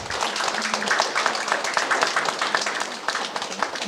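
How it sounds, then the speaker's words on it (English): Audience applause fills a presentation space: dense, continuous hand clapping held at a steady moderate level for several seconds, with crisp individual claps standing out and a faint voice underneath. "So now a round of applause for the person who actually pulled all the strings for Ania."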